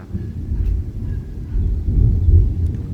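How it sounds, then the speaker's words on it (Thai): Low rumbling thunder rolls through a stormy night, swelling gradually and staying steady with no voices over it. "นั้นฟ้าร้อง"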